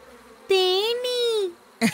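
A single loud, tonal bee-like buzz holds steady for about a second, wavering slightly in pitch, then a brief sharp sound follows, in a cartoon.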